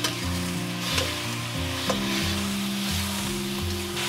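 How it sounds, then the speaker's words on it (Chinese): Chicken pieces coated in caramelized rock sugar stir-fry over medium-high heat for Xinjiang big plate chicken, with a steady close sizzle and periodic clanks of the spatula turning the meat, no voices. "一开始我们中大火炒，把这个鸡肉的水分稍微给它煸干，"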